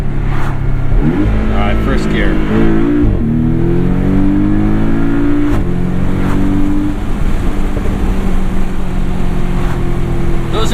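Tuned 2017 Porsche 718 Boxster S with PDK gearbox, MTM-modified, in sport mode pulling hard in first gear, its engine note climbing loud and close through the rev range, then a quick shift and renewed rise, heard from inside the car.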